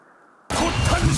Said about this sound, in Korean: 포탄 세례를 받아라!